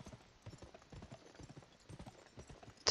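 Horse hooves clip-clop in the western video game GUN, with a quick, even rhythm of soft thuds that carries on throughout at close range and fairly low volume.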